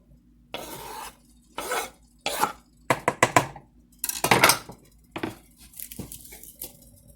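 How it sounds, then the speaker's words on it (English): Celery is chopped finely with a knife on a cutting board, giving bursts of quick scraping, crunchy strokes separated by short pauses. The strokes are close and moderately loud, with no talking. "Next, I have 1 stalk of celery, and I'm going to chop this up very fine"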